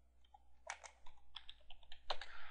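Irregular bursts of clicking keys on a computer keyboard, close and fairly quiet, tapping in short uneven runs with no talking.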